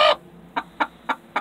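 A bantam hen clucks close by: one louder cluck, then four short soft clucks in a steady, evenly spaced rhythm.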